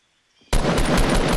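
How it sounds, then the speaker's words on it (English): Automatic gunfire in the Fortnite video game: a loud, sudden burst of rapid shots that starts after a quiet moment and continues as an unbroken rattle. "I'm about to shoot at this"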